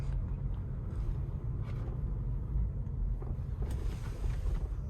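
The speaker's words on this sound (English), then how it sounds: "just so you can kind of hear the vehicle a little bit." Interior road noise of a 2017 Mercedes-Benz CLA250 4Matic while driving, a steady low rumble of tires and engine with faint bumps, continuous and without talking.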